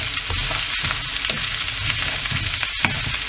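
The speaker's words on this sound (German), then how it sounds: "Und dann braten wir einmal scharf die Kartoffeln und den Brokkoli an." Potatoes and broccoli sizzle steadily in a hot pan, with occasional soft stirring scrapes and crackles, close and continuous.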